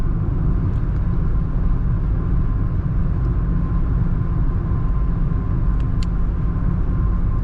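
Steady cabin drone inside a Tata Altroz DCA cruising on the highway at 80 km/h, around 2000 RPM: a constant low road rumble and engine hum with a few faint ticks, no voices.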